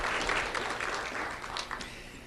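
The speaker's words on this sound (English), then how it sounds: "Let's have a round of applause for Jaden Romano." An audience at a sheriff's office awards ceremony applauds steadily, a dense wash of clapping at moderate volume that continues without a break.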